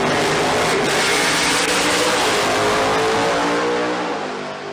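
A Pro Mod drag racing car at a sports compact drag meet in Brisbane revs high during a hot track tune-up, a loud, dense, sustained roar close by that holds steady and then fades at the end.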